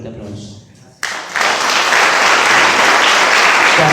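Congregation at a church service breaks into loud, sustained applause after a short quieter stretch, the clapping swelling suddenly and continuing steadily with voices mixed in.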